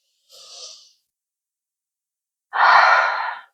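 Two breaths taken during a chest mobility exercise, a short soft inhale followed after a pause by a louder, longer exhale, close to the listener, with silence between.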